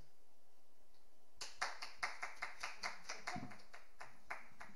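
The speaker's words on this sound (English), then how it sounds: "Thanks for the applause." Applause after a talk from a small audience, a handful of people clapping in a regular, fairly close rhythm that starts abruptly after a quiet moment.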